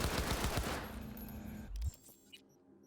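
A burst of rapid gunfire from a power weapon in Cyberpunk 2077, loud dense shots for about two seconds, then a sharp cutoff followed by a fainter metallic clank.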